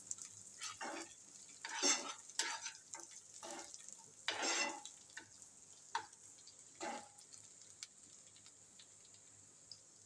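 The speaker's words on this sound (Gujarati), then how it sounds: "હવે આ થોડુંક આપણે સાતવી દઈશું" Crushed roasted peanuts are sautéed in a pan for sabudana khichdi, with quiet scraping stirs, light utensil knocks against the pan and a faint sizzle underneath, all fairly soft and close.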